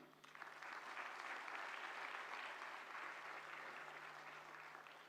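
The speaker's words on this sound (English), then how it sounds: "Amidst a round of applause, please welcome Dr. Gausalya Ramaswamy." A hall full of guests at a doctors' convocation ceremony at Vigyan Bhawan, New Delhi, applauds a gold medal recipient, with a steady, even wash of distant clapping that holds throughout and fades slightly at the end.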